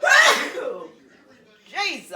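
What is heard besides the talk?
sneeze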